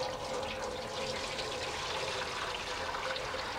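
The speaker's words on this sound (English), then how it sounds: "Now my water tray needs some water." Water pours steadily into the water tray of a BBQ smoker, a continuous splashing, gurgling rush at close range that holds an even level throughout, with no voices.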